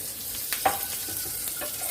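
Corned beef hash sizzles and crackles steadily in a hot frying pan, a constant bright frying hiss with a few sharper pops and stirring scrapes.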